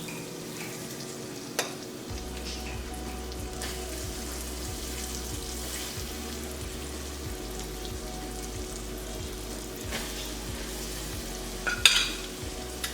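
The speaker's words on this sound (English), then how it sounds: "I'm gonna go ahead and add in my pork chops." Pork chops sizzle in a pan with a constant hiss and soft regular ticks, ending with a brief clatter near the close.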